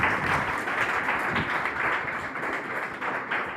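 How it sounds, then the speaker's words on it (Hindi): Students applaud at a school seminar, a dense, steady wash of clapping from many hands that fills the room throughout without pause. "धन्यवाद आपकी अच्छी और प्यारी प्यारी तालियों के लिए"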